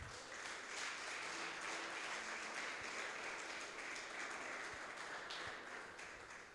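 A church congregation claps steadily in a continuous, even burst of applause that fills the room for several seconds, with no talk over it.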